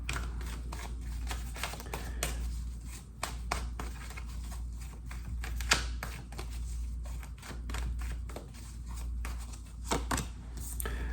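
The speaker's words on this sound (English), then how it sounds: "I feel like every time I shuffle the cards" Tarot cards riffled and shuffled in repeated bursts, close and crisp, with brief taps and slaps between riffles over a steady low hum.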